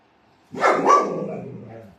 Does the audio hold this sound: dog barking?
yes